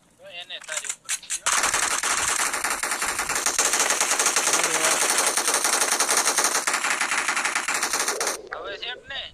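An SMG in the PUBG/BGMI video game fires one long, dense, continuous burst lasting several seconds, loud and unbroken, framed by brief bits of other game sounds before and after.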